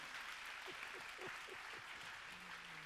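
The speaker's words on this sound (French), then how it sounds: "Applaudissements, mesdames, messieurs." Faint, distant applause from an audience at the EFIDIS 2018 New Year greetings ceremony, a soft continuous patter of clapping with a few low murmuring voices beneath.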